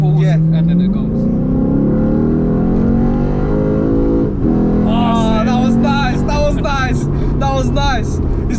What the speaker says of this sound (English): It's like the car's taking a big gasp of air before it's like, okay, next gear.